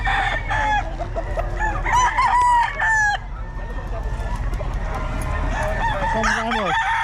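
Hatch gamefowl roosters crowing repeatedly at a busy market, several loud, close crows overlapping with clucks, while people talk and bargain around them.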